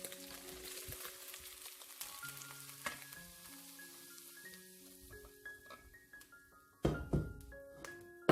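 Shallots sizzle and crackle in a hot wok, frying for minced pork and olive vegetable fried rice, with steady hiss, scattered spatters and a few loud clanks of stirring near the end.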